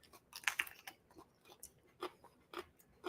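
Close, quiet crunching of a bite into a quesadilla with roasted Hatch green chile, a sharp crisp snap followed by several softer chewing crunches spaced irregularly, with no talk.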